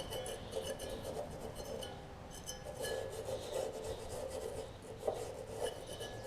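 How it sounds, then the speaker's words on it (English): Rust being scraped by hand off the flywheel magnet of a Briggs and Stratton Quantum push mower engine, a steady faint rasping rub with small clinks, close up and without talk. "We'll just kind of scrape a little bit off of a little bit of rust off of the magnet here."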